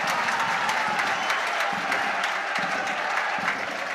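A football stadium crowd on a Glasgow evening, Thistle hosting Airdrie, fills the air with a steady wash of applause and murmuring, a dense, continuous roar with sharper claps standing out.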